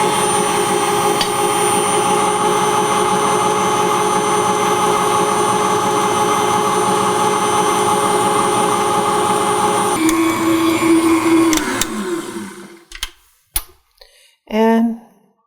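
A KitchenAid Artisan 5 quart stand mixer whips egg whites and sugar toward stiff peaks with a loud, steady motor whine that winds down near the end, followed by a few brief knocks and a short burst of talk.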